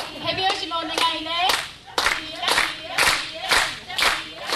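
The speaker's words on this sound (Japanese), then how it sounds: "手拍子もお願いね" Rhythmic hand-clapping accompanies a traditional Ainu dance in Nibutani, Biratori, Hokkaido, with steady claps in a regular pulse close by and a voice singing between them.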